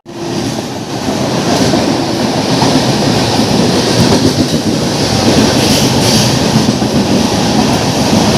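The Paharia Express with LHB coaches running on the rails, a loud continuous rumble and rattle of wheels with faint clickety-clack throughout.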